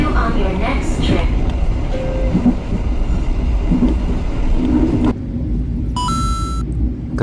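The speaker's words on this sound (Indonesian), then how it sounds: "Kereta api Pasundan meninggalkan stasiun Gombong dengan keterlambatan 5 menit." Pasundan passenger train pulling out of Gombong station, with a loud close rumble and rolling wheel noise that steadies, followed by a sharp tonal horn or signal near the end, and voices talking over it.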